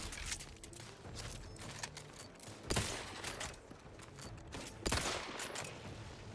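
Video game gunfire, rapid sharp bursts of shots cracking close and loud, with two especially strong volleys standing out among steady battle noise.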